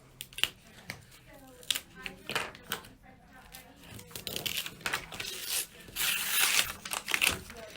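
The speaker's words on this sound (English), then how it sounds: "I'm going to take the point of it and just slip it underneath that stabilizer and peel that off" Embroidery stabilizer is peeled away from a tea towel in short tearing and crinkling bursts, with scattered soft scrapes under quiet speech.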